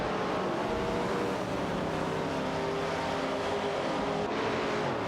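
Plymouth Barracuda Hemi muscle cars race in a video game, their engines droning loud and steady with layered, shifting tones as the cars battle closely, no talk over them.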